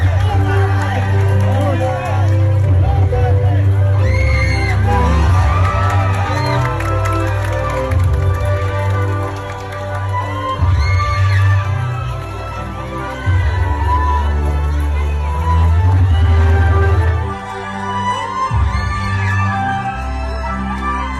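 A large crowd at a political rally in the Philippines shouts and cheers in loud, swelling waves of voices, with a brief lull near the end before the noise rises again.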